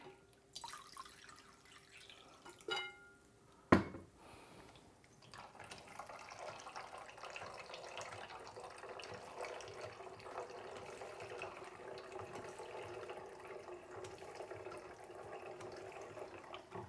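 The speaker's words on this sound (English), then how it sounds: "Let's pour some more pond water in here." Pond water pours into an MSR Guardian water filter, a soft, steady trickle and splash of liquid that runs on continuously after a few faint knocks and one sharp clunk at the start.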